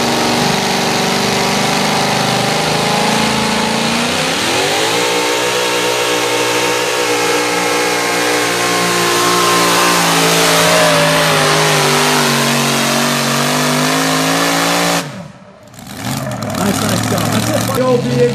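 A Pro Mod drag car with a supercharged Chevrolet 572 engine revs loudly and close, its pitch climbing and holding high, then briefly cutting out before roaring again; voices can be heard under the engine.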